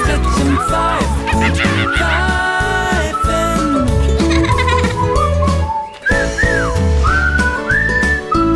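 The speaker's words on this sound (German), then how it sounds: "Pfeifen, das glückliche Frettchen pfeift gut." A bright, melodic whistled tune carries on steadily, with sliding notes over a busy music backing, loud and close.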